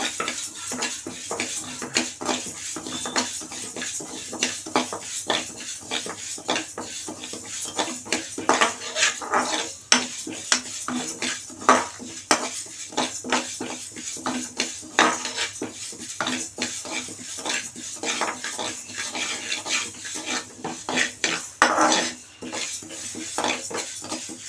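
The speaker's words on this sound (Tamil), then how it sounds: "இப்போ நம்ம பாசி பருப்பை லைட்டாக வறுத்துக்கலாம்" Moong dal dry-roasts in a dry pan while a metal spoon scrapes and clinks against it in a busy, irregular rhythm, and a dog barks briefly in the background; no one speaks.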